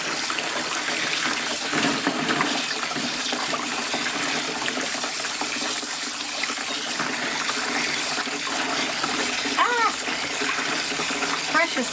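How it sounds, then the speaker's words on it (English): Soaked whole dried corn is rinsed in a strainer under a hose spray while it drains, producing a steady, close, broadband rush of running water that continues without a break. "dump small batches into there, let it drain through, give it a squirt with a hose"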